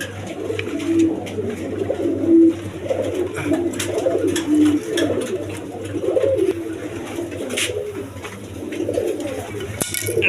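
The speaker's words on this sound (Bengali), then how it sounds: "এখানে এক পেয়ার কবুতর আছে" A pair of pigeons, including a red-coloured bird, coo in repeated low rolling phrases at close range over a steady background hum.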